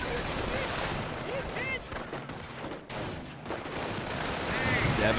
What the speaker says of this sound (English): DevM is definitely using his howitzer to try and take care of Symbiosis' sniper